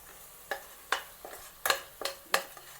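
Chickpea masala with ginger, green chilli, turmeric and Kashmiri chilli powder being stirred in a sizzling pan, five or six distinct scraping strokes of the spoon at a steady rhythm over a soft frying hiss.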